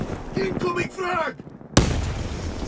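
A frag grenade detonates in a Call of Duty Black Ops III multiplayer match, a sudden loud broadband blast with a sustained rumbling tail, following game voice callouts.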